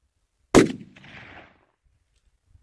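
A single long-range rifle shot at a rock chuck, one sharp loud crack followed by a short rolling echo that fades within a second, outdoors with no talk.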